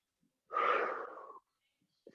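A single strong breath pushed out through the mouth during a slow standing balance exercise, with the weight on one leg. It is close and breathy, lasts just under a second, and tapers off into quiet.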